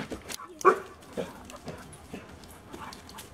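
A puppy in training gives a single sharp bark close by, followed by soft scuffles and faint whimpers in a quiet room.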